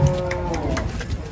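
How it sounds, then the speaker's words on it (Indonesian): A black cow lets out a single deep, drawn-out moo while being unloaded from a truck, close and clear over a faint background rumble. "Sapi yang unik ini."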